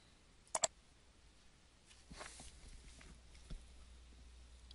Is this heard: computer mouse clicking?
yes